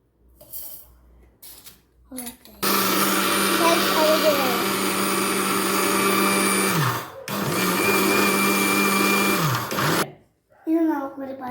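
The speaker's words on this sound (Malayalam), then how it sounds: "എന്നിട്ട് പൊടിച്ചെടുക്കാം" A mixer grinder whirs loudly as it powders spices, running in two long bursts separated by a brief pause, with short spells of quiet kitchen sounds and talk before and after.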